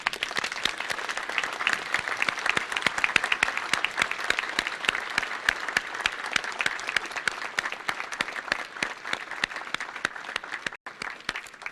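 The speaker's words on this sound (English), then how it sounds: "Let us stand up and really clap for them." An audience at a ceremony honouring soldiers claps steadily and at length, with dense overlapping applause that holds an even level for more than ten seconds before stopping abruptly.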